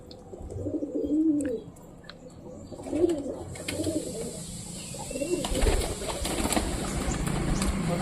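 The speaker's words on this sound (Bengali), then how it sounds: "পায়রাগুলো যেহেতু অর্ধেকের বেশি ওইদিকে কুড়ু কুড়ু করছে" Pet pigeons coo in soft, repeated bursts nearby, with a rising wash of steady background noise in the second half.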